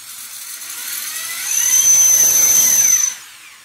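An electric drill without hammer mode starts a hole, likely in a bathroom floor while a Celite Ecoflush toilet is being installed, whining up to a steady high pitch for about a second and a half before stopping, heard alone with nobody talking.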